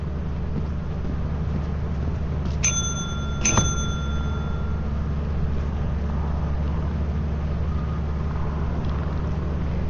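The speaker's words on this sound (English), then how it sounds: "You gotta ring the bell a bunch." A ship's bell in the video game Lethal Company rings twice in quick succession, clear ringing strikes with lingering tones over a low steady engine-like rumble.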